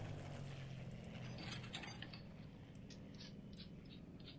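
Camshaft cap being fitted back onto an aircraft engine in Plane Mechanic Simulator, heard as faint mechanical clicks and light ratcheting over a low, steady hum.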